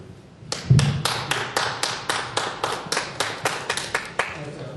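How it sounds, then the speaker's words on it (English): Scattered applause at a village board meeting: a small group clapping in a fairly even, rhythmic series of about fifteen distinct claps in a room, with a brief voice near the start. "Well deserved applause."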